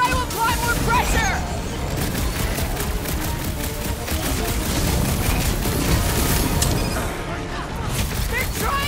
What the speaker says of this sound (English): Wanna see some fireworks?